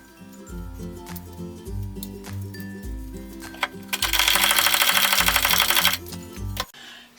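A screw driven by a power driver into a knot in pine wood, a steady mechanical whir with rising, straining pitch that surges louder toward the end before cutting off abruptly.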